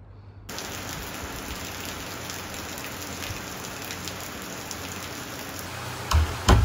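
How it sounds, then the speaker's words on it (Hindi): Heavy rain pours steadily outside in Ramnagar near Jim Corbett, a dense continuous hiss of drops with no break, and a few louder knocks or thumps near the end. "बाहर हो रही थी बहुत ही तेज़ बारिश"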